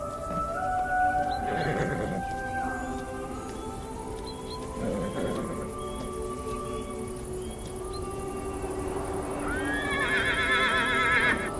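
Wild stallions fighting on a mountain give loud, shrill neighs and whinnies in bursts, with rain-like patter and hoof noise between calls.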